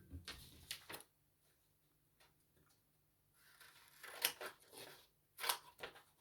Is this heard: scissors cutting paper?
yes